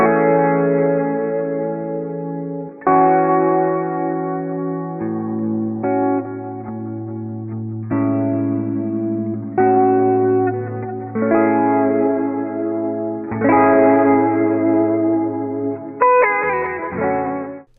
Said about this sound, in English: Lastly, here's a lo-fi inspired direct guitar sound.